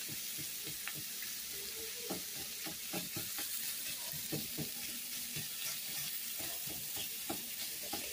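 Shrimp sizzle steadily in a hot pan for shrimp fajitas, a dense crackling hiss with occasional stirring clinks and scrapes close by, no talking over it.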